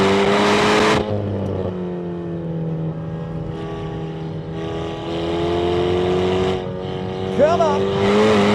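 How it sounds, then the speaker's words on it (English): Engine of a rental car in a time attack race, droning steadily close up through corner entries with shifting pitch and a brief rev near the end; a voice cuts in at the start. "Doing some corner entries here"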